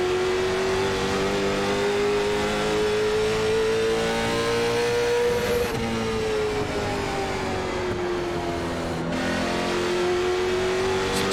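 A race car in the iRacing sim at Stafford Speedway holds a loud, steady engine drone for the whole stretch, its pitch rising and dipping as it powers through the oval's corners and straights.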